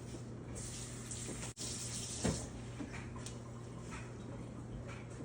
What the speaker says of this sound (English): we're first gonna start by washing our hands